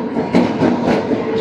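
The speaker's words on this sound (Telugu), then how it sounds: "మన రాయలసీమ ఎక్స్ప్రెస్ అయితే వచ్చింది వ్యాప్సం లోకోమోటివ్తో." Rayalaseema Superfast Express, hauled by a WAP-7 electric locomotive, rolls into a station at Nizamabad with a loud, steady rumble and rhythmic wheel clatter close by.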